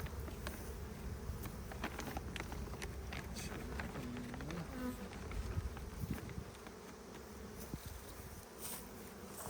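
Honeybees buzzing around an opened hive during colony splitting for queen rearing: a steady, dense outdoor hum with occasional louder individual bees passing close, a few faint rustles and clicks, no talk.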